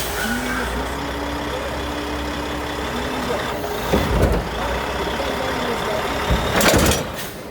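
A semi-truck engine idles and rumbles steadily up close while the trailer is lifted, with a brief whine near the start and a couple of louder mechanical clunks and hisses later.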